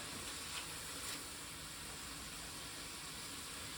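Ground meat and vegetables browning in a pan for a 1962-style sloppy joe give off a soft, steady sizzle that stays faint and even throughout, with no talking.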